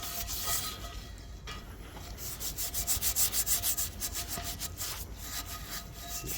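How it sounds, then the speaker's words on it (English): A brush scrubs a cast iron pan fresh out of a lye tank, giving close, rhythmic rasping strokes that speed into quick back-and-forth bursts. "we'll give it a little scrub down, make sure everything's out of the little design"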